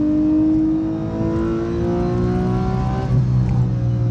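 Car engine revving hard under throttle through tight bends on a twisty road, a steady loud drone with rising and falling pitch as the driver eases on and off the pedal, running continuously near and close throughout.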